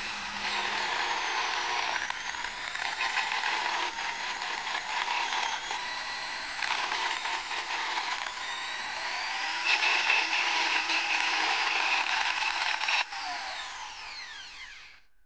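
An Ingco 130 W mini grinder running with a catching fault, a close, harsh whine that sputters and rattles unevenly, with the tone shifting through the run before cutting off at the end.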